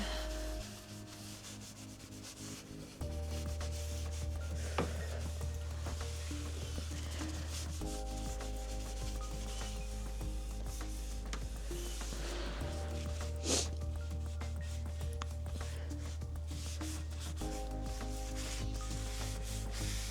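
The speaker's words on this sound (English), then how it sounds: "I'm going over with 120 grit" A Kent Coffey Perspecta wooden dresser is hand sanded with 120 grit sandpaper: steady, close scratchy rubbing strokes continue throughout under background music.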